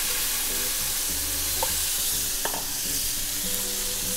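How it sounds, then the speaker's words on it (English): Marinated meat searing in a hot pan, a dense, steady sizzle with a couple of faint utensil clicks, close and fairly loud, alone without talk. "Let me get a nice sear on one side."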